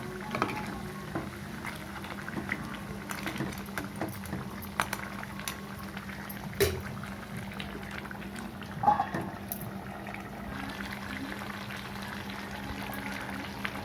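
A steady bubbling boil of thick crab curry in a covered pot, continuous and close, with a couple of faint clinks.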